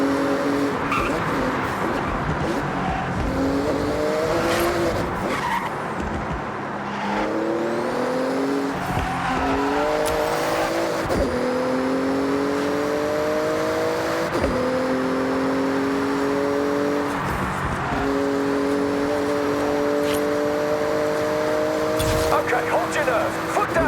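A Porsche races flat out through a speed zone in Forza Horizon 6. The engine revs in repeated climbing pulls with quick gear shifts and bursts of tire squeal, loud and close throughout, with a voice talking over it.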